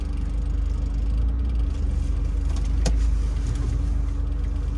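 Road traffic in small-town Batesville, Mississippi, with cars rumbling past as a steady, close engine and tire drone throughout, one sharper whoosh midway, no talking.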